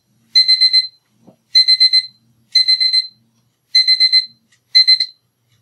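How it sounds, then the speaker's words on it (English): An alarm beeps in five short bursts of rapid electronic tones, each burst about half a second long, repeating at a steady pace with silence between them, loud and close in a quiet room. "I forgot I had that alarm."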